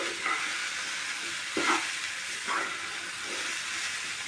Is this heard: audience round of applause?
no